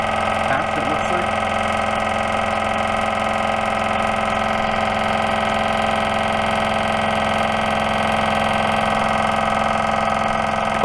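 An electric fuel transfer pump on a P-51 Mustang replica's auxiliary tank runs with a steady droning hum throughout, close and even, with faint voices underneath.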